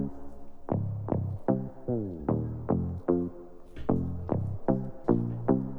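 A bass line from a beat's intro, made in Ableton, plays as a run of deep plucked notes with decaying tails, including one sliding note, in a steady rhythm with nothing else heard.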